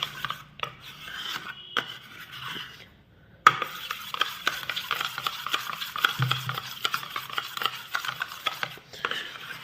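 A spoon scrapes and stirs steadily through thick henna paste mixed with water in a bowl, close up, with brief pauses between bursts of rasping strokes.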